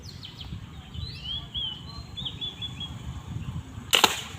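A fishing crossbow is fired once, giving a single sharp, loud snap near the end over a quiet outdoor background with faint bird chirps.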